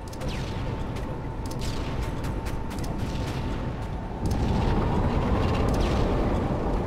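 Grenade explosions in Halo 2, a loud, dense roar of overlapping blasts and rumbling debris that grows heavier partway through, with sharp cracks spiking over the constant noise.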